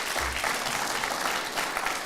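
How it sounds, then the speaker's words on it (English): Dense applause from a crowd at a local government election candidates' meeting in Taupō, steady and sustained throughout with no talking over it. "give all those 21 candidates another big round of applause"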